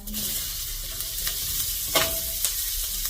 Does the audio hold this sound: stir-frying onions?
yes